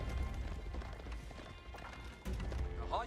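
Horse archers' hooves galloping in Age of Empires 4, a steady clip-clop rhythm of several horses in a busy game battle mix, with a brief drop in the middle before the hoofbeats return loud.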